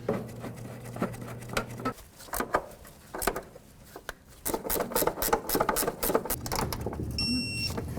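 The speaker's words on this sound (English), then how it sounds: "we'll line up our bolts, start them in, and then we'll tighten them to manufacturer's specifications." Bolts are tightened on the front upper control arm of a 1998-2002 Honda Accord, making close, rapid ratcheting clicks and metallic scrapes in uneven bursts over a low background hum.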